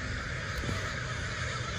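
Crows caw amid a dense, noisy outdoor background, with a flock of around a hundred birds heard as harsh calls blending into a continuous wash of sound.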